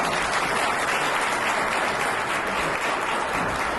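An audience at an automotive industry conference applauds a panel, a dense, steady round of clapping that fills the room without letup.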